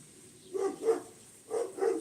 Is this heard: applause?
no